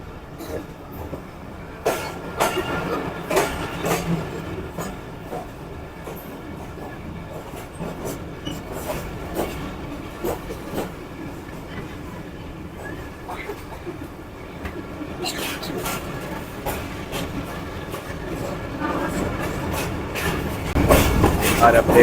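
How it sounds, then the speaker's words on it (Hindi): Passenger train running on tracks near Lahore station on the Lahore to Rawalpindi line, a steady rumble with clicks and some brake noise, swelling louder toward the end, with a person talking throughout. "थोड़ा ब्रेक लग गया ट्रेन को"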